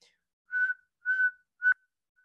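A person whistles three short tonal toots imitating the call of a saw-whet owl, each note steady and clear, spaced about half a second apart against silence.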